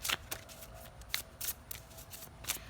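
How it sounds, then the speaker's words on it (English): A deck of tarot cards is shuffled up close, giving rapid riffling bursts and soft flicks in an uneven rhythm, fairly quiet and with no speech. "I'm going to shuffle some more to get more details on your inner child"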